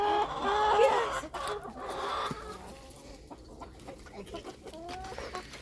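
Backyard chickens cluck outdoors on a cold day, a flock of fowl giving several short, irregular calls at moderate distance, loudest at the start and then softer bursts scattered through the rest.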